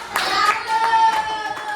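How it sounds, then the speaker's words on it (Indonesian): A fifth-grade elementary classroom claps for a group, a few close, rhythmic hand claps over a brief stretch, with children's voices sounding alongside. "beri tepuk tangan buat kelompok 1"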